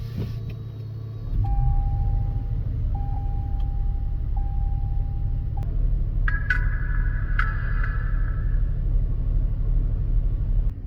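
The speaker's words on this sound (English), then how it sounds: "Now let's go ahead and start up the vehicle." A car's engine starts and settles into a steady low idle rumble, with a few electronic beep tones from a newly installed dash cam sounding over it.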